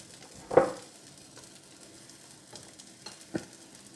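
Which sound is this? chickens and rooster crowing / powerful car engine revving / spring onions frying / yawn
spring onions frying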